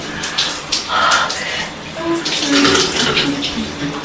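A home shower runs steadily with a close, constant rush of water that briefly changes as it is adjusted, and a voice is faintly present in the background.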